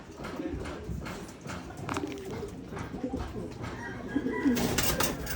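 Close pigeon cooing at a loft mixes with wing flaps and scuffling of feet on a roof, with a louder burst of coos near the end.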